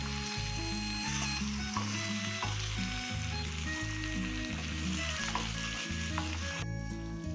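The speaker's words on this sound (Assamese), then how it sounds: "এনেকৈ 5 মিনিট সময় ফ্ৰাই কৰি থাকিম" Pork and tomatoes frying in a pan give a strong, continuous close sizzle for several seconds, with stirring noises and a low, rhythmic tonal backdrop throughout.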